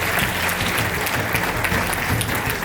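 An audience at an award ceremony for real-estate honours applauds steadily, with dense, even clapping throughout and no speech.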